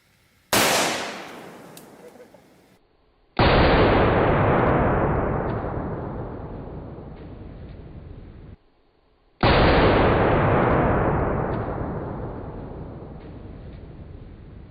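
An AR-15 fires brush hog rounds into a pork shoulder. Three loud, close gunshots ring out a few seconds apart, each followed by a long, decaying boom and echo.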